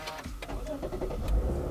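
A 2022 Lexus IS350 F Sport AWD engine starting up, a brief cranking whir followed by a steady idle rumble, heard close and clear with no talk.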